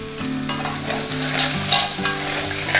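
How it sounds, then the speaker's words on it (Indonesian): River snails tipped into fragrant spice paste in a hot wok, giving a loud, steady sizzle with clattering shell and spatula scrapes close by, no talking. "kita tinggal masukin aja tengkuyungnya ke dalam wajannya"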